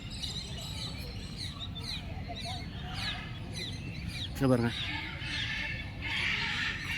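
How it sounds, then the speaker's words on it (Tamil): Many birds chirp and call at once in an enclosed space, a busy chatter with one louder honk-like call; a person briefly speaks over it. "சவுண்டு கேட்குதுங்களா பறவைகளுடைய சவுண்டு எப்படி இருக்குது பாருங்கள்"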